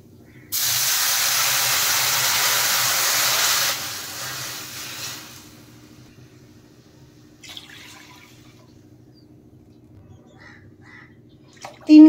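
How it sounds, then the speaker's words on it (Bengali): Water poured into a hot pan of fried moong dal bursts into a loud, broad hiss for about three seconds, then fades to a low simmer with faint clinks and a sharp knock at the end. "এখন এর মধ্যে আমি দিয়ে দেব জল।"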